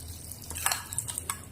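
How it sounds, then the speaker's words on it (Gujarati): Two spoons of ghee heating in a pan before cumin goes in to temper mung and masoor dal, giving a few faint crackles and ticks over a low steady hum, with no voices. "આપણે દાળનો ઘીથી વઘાર કરવાનો છે, માટે મેં 2 ચમચી જેટલું ઘી લઈ લીધું છે."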